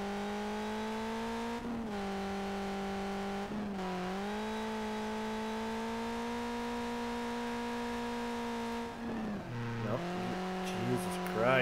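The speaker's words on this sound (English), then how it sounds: "Christ, this car just does not want to stay drifting." A video-game racing car held in a steady high rev while drifting, its harmonic engine tone wavering with brief throttle dips and shifts, ending in a rough rising burst.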